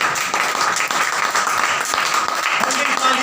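An audience at a preacher's religious gathering breaks into loud applause, a thick continuous roar of clapping that holds steady for a few seconds.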